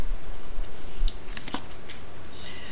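A deck of tarot cards is cut by hand, giving a few soft papery rustles and quick crisp snaps over a steady background hiss, close and fairly quiet.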